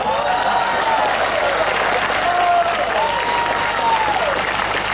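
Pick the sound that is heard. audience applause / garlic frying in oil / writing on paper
audience applause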